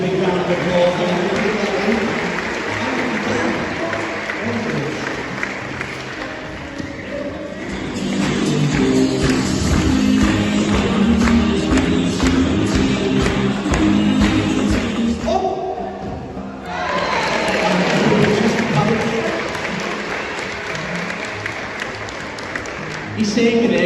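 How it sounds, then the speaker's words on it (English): An audience at a sea lion show in Knowsley Safari Park claps in long, dense waves that break off briefly midway and then swell again, while a presenter's voice talks over the clapping. "Give a big round of applause."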